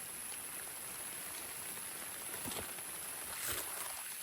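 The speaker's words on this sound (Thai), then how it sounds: "ฝนตกแล้ว" Rain falls outdoors during mushroom gathering, a soft, faint, even patter and hiss that continues throughout with a few slightly louder drops toward the end.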